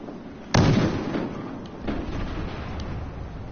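Gunfire in the video game Battlefield Hardline: one sharp, loud blast with a rolling tail, then a weaker distant boom and faint pops over a low ambient rumble, with no talk.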